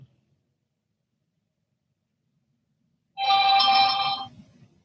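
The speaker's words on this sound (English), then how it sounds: "Oh, Buck just texted me." A short phone text message notification chimes once after near silence, a bright ringing tone lasting about a second before fading.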